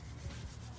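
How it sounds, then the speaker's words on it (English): A microfiber towel dampened with soapy water is rubbed over a car coilover's threads and body, giving a close, steady, continuous rubbing and wiping sound with no talking. "just give it a good wipe"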